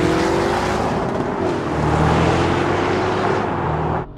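Several high-performance vehicles, a BMW X4M, an AMG G63, a Porsche Cayenne Turbo and a Bowler Bulldog V8, roar together in a rolling drag race, a loud, sustained engine drone with a rising low growl and no talking.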